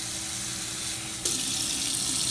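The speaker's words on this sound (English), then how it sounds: "We're just going to fill that with water." Water runs from a tap into a container, a steady rushing stream that grows louder and brighter partway through as the flow increases.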